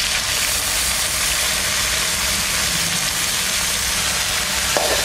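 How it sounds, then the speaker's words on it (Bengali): Kharkol leaves frying in oil alongside a half-fried hilsa fish head, a dense, loud, continuous sizzle that stays even from start to finish, no talking. "মাথাটা হাফ ভাজা হয়ে গেছে। এবার দিয়ে দেবো খারকোল পাতা"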